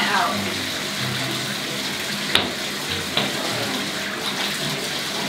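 Running water pours steadily into a bathtub being filled for a Chow Chow puppy's first bath, a continuous rushing hiss with a couple of brief knocks partway through.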